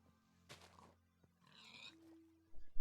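Pigs in a video game let out a few scattered grunts and a squeal, short bursts separated by quiet stretches, fairly faint with no talking.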